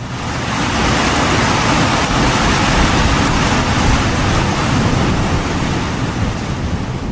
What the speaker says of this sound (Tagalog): yung kulog at kidlat dito, parang nasa cinema. Iba yung tunog niya.